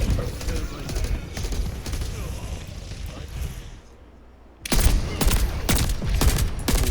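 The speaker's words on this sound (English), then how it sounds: "Shooting at the tank again." Video game gunfire aimed at a tank: a continuous din of shooting and battle noise that eases briefly, then returns in loud, sharp bursts of rapid shots.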